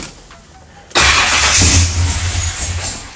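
A Chevrolet Malibu wagon engine cranks and catches after a quiet moment, roaring up loud and near before settling into a rough, rumbling idle.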